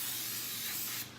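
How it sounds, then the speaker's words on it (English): Cooking spray hisses in one steady burst onto the bottom of a 12-inch baking pan for a braided Easter bread, close and fairly quiet, cutting off abruptly after about a second. "Okay, so spray the bottom"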